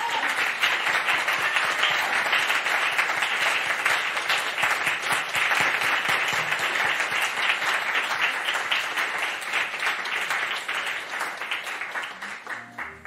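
An audience at the end of a lecture applauds steadily for about thirteen seconds, a dense wash of many hands clapping that tapers slightly near the end.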